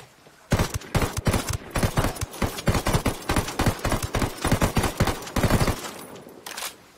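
Bursts of fully automatic rifle fire from Ghost Recon Wildlands hammer out close and loud, a rapid run of sharp shots with brief gaps, ending in a few scattered rounds after a short pause.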